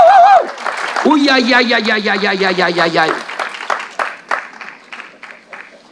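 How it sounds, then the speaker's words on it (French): Applause from a church congregation during a sermon, starting under a man's drawn-out sung cries and then continuing as a steady patter of clapping that thins out toward the end. "On peut l'applaudir, hein."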